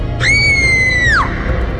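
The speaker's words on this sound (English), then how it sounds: "There was screaming" A girl lets out a single high, sustained scream that holds steady for about a second, then bends downward and cuts off, loud and close over a low background rumble.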